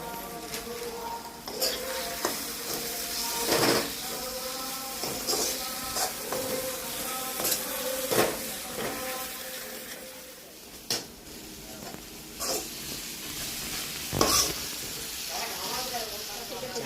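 Vegetarian khichuri cooks in a pot while a spoon stirs it, producing intermittent scrapes and clinks against the metal over a soft, steady simmering hiss.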